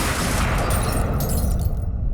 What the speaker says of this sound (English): He shot his friend!